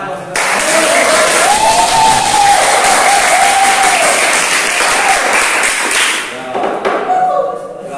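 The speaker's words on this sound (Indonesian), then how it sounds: "Tepuk tangan buat kita." An audience in a classroom gives loud, sustained clapping for several seconds after a presentation, then the applause tapers off.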